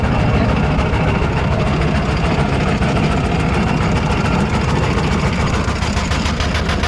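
A steam locomotive working hard uphill, its chimney exhaust barking in a steady, continuous roar of low rumble and chuffing beats, loud and close throughout with no voices.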